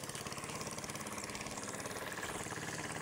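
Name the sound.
engine running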